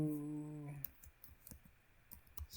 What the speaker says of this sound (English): And now I can just start typing.